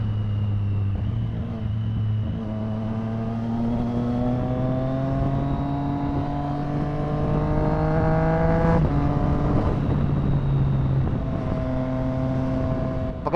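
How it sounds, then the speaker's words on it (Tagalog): Street traffic with a nearby engine revving and climbing steadily in pitch, then easing off and picking up again, loud and close over a constant road rumble. "Uy, grabe traffic dito ah."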